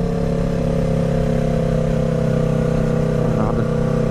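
A Yamaha R3 motorcycle engine holds a loud, sustained high rev near 7000 RPM, its steady layered tones droning evenly with a slight wobble near the end.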